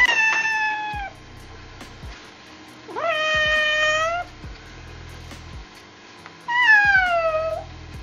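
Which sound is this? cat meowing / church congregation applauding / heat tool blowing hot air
cat meowing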